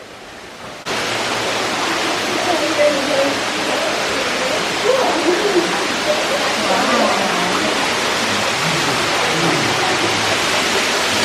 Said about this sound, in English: I hear a waterfall.